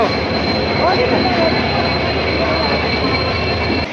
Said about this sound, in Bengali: আমাদের ট্রেন ঢুকে গেছে। এই ট্রেন ঢুকে গেছে